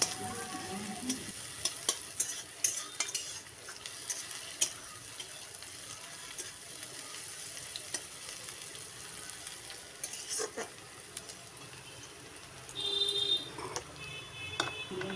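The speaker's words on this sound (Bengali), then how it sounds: "পেঁয়াজটা নেড়ে চেড়ে একটু লালচে করে ভেজে নিতে হবে।" Onions stirred and fried in a pan for a Bengali wedding-style doi katla fish curry, a steady soft sizzle with scattered scraping clicks of the spatula, fairly quiet and with no talking.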